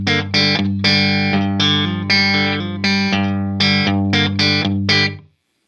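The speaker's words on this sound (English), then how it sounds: "That sounds like an amp in a room to me." Distorted electric guitar chords strummed in a steady series of loud, sustained hits through an amp with a room plugin, giving a roomy ambience around each note before it cuts off.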